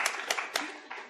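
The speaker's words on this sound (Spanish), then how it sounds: "vamos a darle un aplauso a Tania" Scattered hand claps from a small audience, a few sharp strikes spaced about a quarter second apart, faint and fading out.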